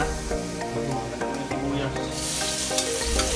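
Garlic sizzles steadily in a hot pan for chicken pastil, a continuous close frying hiss with light clinks of stirring, and a voice speaks faintly over it.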